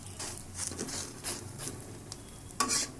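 Vegetable batter bread frying in a hot wok, a soft continuous sizzle with light stirring scrapes and one louder burst near the end, close by with no voices.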